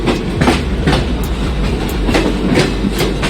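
A train rolls along the rails at speed, with loud, close rumbling and repeated clickety-clack beats from the wheels passing over track joints, steady and without voices.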